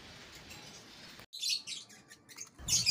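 Pet bird in a cage chirping, a few short bright tweets in quick bursts after a steady background hiss, fairly close and unaccompanied by speech.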